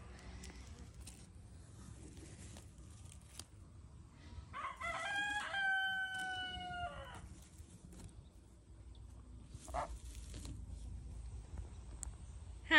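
A Brahma chicken in a coop gives one drawn-out, crow-like call, faint and somewhat distant, with a brief second call a few seconds later over low background noise.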